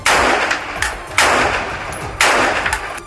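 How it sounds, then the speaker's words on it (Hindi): A soldier fires several rounds from a window, sharp loud gunshots in three spaced bursts with echoing decays between them. "खिड़की पर बंदूक ताने खड़े इस सैनिक ने कई राउंड फायरिंग की।"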